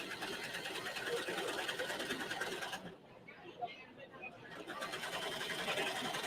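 A serger sewing machine stitching fabric at a busy quilt festival hums with a steady, fast mechanical whir, pausing briefly midway before resuming, with crowd chatter and a voice in the background.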